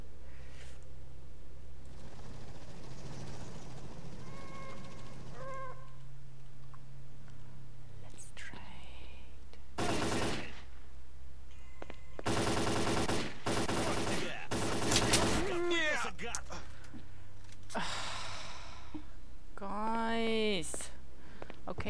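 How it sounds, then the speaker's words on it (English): Bursts of machine-gun fire in the shooter Lost Alpha, set in Pripyat, crack out in several separate volleys of roughly a second each, loud and close, standing out over a steady low game ambience with no talk. "Somebody was shooting at something from this side"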